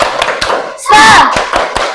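Classroom 'tepuk semangat' rhythmic group clapping by students, sharp patterned claps in a steady beat, mixed with a brief shout or cheer in the middle.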